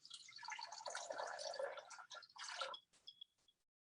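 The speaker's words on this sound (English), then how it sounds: "I'm going to add my 500 grams of water" 500 grams of water is poured into a cooking machine bowl, a close, continuous splashing fill lasting a couple of seconds, then trailing off into a few faint drips.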